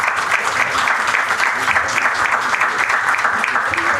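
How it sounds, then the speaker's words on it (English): Steady applause from a large conference audience for speakers, dense and sustained clapping throughout with a faint murmur of voices underneath. "Please give a big round of applause for our speakers."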